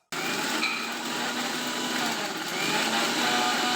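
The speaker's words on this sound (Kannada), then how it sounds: "ಅಲ್ಲ ಮತ್ತು ಬೆಳ್ಳುಳ್ಳಿ ಪೇಸ್ಟ್ ಮಾಡೋಣ." Mixer grinder blending ginger and garlic into a paste, a steady loud whirring drone that starts abruptly and runs unbroken throughout, no talking.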